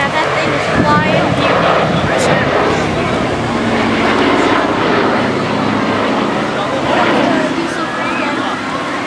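Vintage airplane flying over the Jones Beach air show, a continuous loud engine drone overhead with crowd chatter and nearby talking mixed in throughout.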